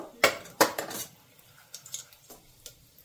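Two sharp metallic clanks of a pot and spoon as a pot is set on the stove, followed by lighter clinks and scrapes that fade into quiet.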